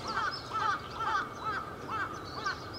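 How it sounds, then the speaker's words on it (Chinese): Crows caw at a campsite facing Mount Fuji in the early morning, five or six hoarse calls repeating in a steady rhythm, fairly close and clear against a quiet background. "它早上大概5点半左右就开始有那个乌鸦在叫"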